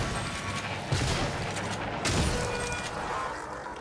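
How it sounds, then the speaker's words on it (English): Shotgun blasts in the game Prey, two heavy booming shots about a second apart, each with a sharp crack and a rumbling tail. "Shotgun."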